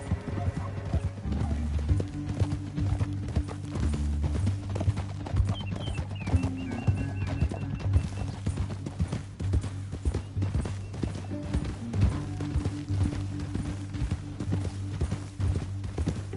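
Rapid, continuous hoofbeats of galloping horses in Red Dead Redemption 2 drum steadily for the whole stretch, with an occasional whinny over a low droning background.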